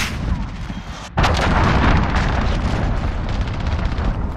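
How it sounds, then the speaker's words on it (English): Cruise missile strike in a Call of Duty Modern Warfare multiplayer match: a heavy explosion bursts in after a brief lull, followed by a sustained loud roar of blasts and rumbling debris. "Enemy cruise missile incoming."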